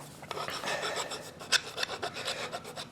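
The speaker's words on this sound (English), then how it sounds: "we're using the file and we're rotating the piece underneath the file" A metal file rasps across a wooden knife handle for a flint-and-steel knife kit, making steady rhythmic scraping strokes close by at moderate volume with one sharper stroke midway.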